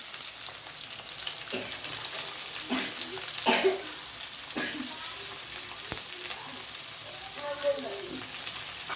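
Onions drop into hot oil and fry with a steady, close crackling sizzle, broken by a few louder spattering bursts and stirring scrapes, continuing evenly for several seconds.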